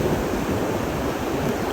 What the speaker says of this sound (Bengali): ওই দেখেন কি বড় ঢেউ